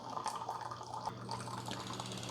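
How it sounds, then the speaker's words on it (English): A Keurig K-Slim (K190) coffee maker's internal air pump runs as a faint, steady hum with soft watery gurgles and drips pushing air through the line. "Okay, so it just kicked the air pump on."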